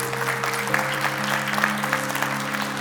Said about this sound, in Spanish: ¿Por qué no damos un fuerte aplauso a toda la gente que está en línea?